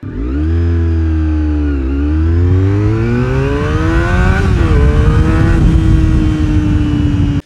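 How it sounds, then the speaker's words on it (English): A Honda RVF400 sport bike's carbureted 399cc V4 engine revs up and holds high, a loud close rising howl with a brief dip before climbing again to a sustained high-pitched wail. "it's got this sweet little 399cc V4 that sounds simply awesome"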